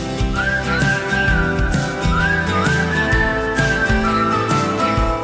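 A clear whistled melody glides and wavers over a full, steady musical backing, with the whistle riding high and prominent throughout.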